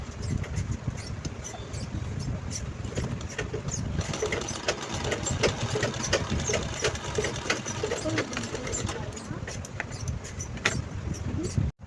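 A sewing machine runs steadily and close, stitching a zipper strip onto a small cloth mobile pouch, its rapid needle chatter continuous for nearly the whole stretch before stopping abruptly at the end.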